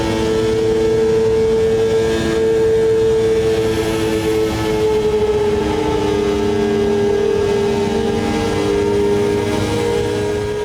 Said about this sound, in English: can hear the cars ahead